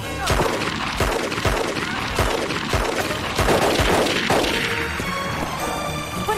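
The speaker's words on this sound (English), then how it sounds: "What is it? Gunshots." Repeated gunshots crack out in a rapid, uneven volley during a chaotic pirate attack in an action movie, loud and close, each blast sharp with a ringing tail.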